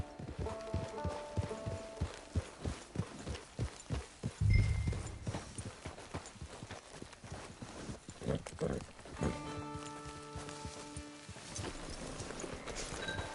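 Hooves clip-clop steadily as a horse walks in a Western video game, a regular near rhythm under game music and scattered voices.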